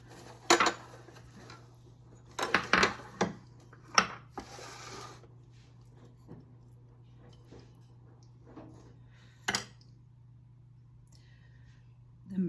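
Vegetable puffs set onto a metal baking tray, giving a few scattered clinks and taps of pastry and pan, close and sparse with quiet pauses between them.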